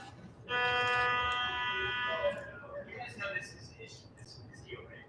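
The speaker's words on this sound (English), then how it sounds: "He's beeping while he's going through security." A metal detector at a security checkpoint gives a sustained electronic beep for about two seconds, then people start talking.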